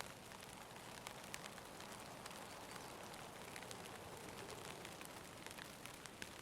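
Rain falling in the video game Escape From Tarkov, a faint, steady hiss of dense drops pattering on surfaces with scattered sharper ticks, continuous and without voices.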